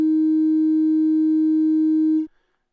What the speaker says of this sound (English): A fairly uninspiring sine wave